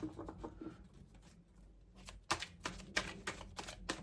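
Tarot cards are shuffled in crisp bursts, a soft riffling patter early on, then sharper, louder flicks and taps in quick succession near the end, close and quiet with no voice.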